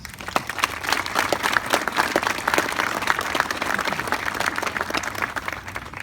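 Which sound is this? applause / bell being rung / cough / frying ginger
applause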